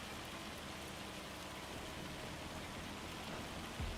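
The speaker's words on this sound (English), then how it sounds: "It's weird because the hail should have stopped by now, and it hasn't done" Rain and hail in the farming game Farming Simulator 25, a steady, faint wash of falling precipitation with no letup and one brief low thump near the end.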